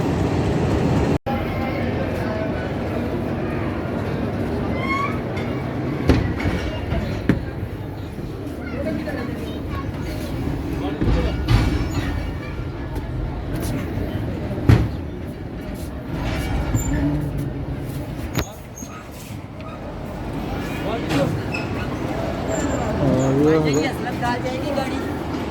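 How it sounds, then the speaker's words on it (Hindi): Train pulling out of Golra Sharif railway junction, a low continuous rumble of the locomotive and rolling cars with occasional clanks and brake hisses, close by and steady, while people talk nearby. "ये ट्रेन चल पड़ी है"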